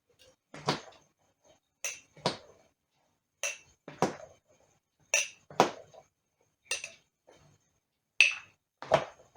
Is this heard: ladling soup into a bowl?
yes